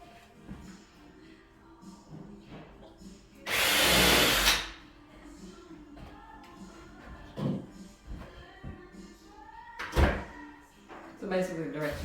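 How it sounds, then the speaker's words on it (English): A power drill bores a screw hole while folding accordion-style doors are installed, with one loud whirring burst of about a second, then quieter clunks and handling noises, and a person talking nearby. "drill your hole, only put one this long screw in here"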